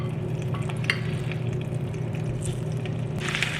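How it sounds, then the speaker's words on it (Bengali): Paneer pieces fry in hot mustard oil in a pan, giving a steady close sizzle with light stirring scrapes and a brief brighter hiss toward the end. "এবারে আমরা পনিরগুলোকে হালকা করে 3-4 মিনিট মতো ভেজে নেব।"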